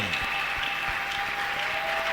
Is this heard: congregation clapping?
yes